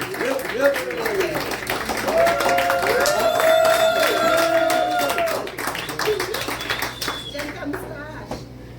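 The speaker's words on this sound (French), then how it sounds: "Alors, bonne applaudissement pour Patrick Bourassa." A café cabaret crowd claps for comedian Patrick Bourassa, a moderate burst of applause that swells and fades, mixed with talking voices and some laughter-like murmurs.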